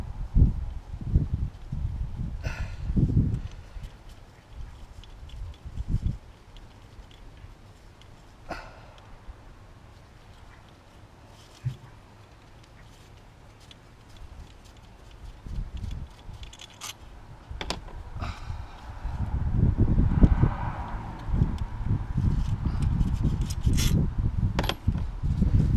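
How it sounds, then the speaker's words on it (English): Torx bolts being cracked loose on the coil pack of a Vauxhall Astra J during a service, heard as scattered close metallic ratchet clicks and clunks with bursts of tool handling and rattling, louder near the end. "Just crack off the Torx bolts."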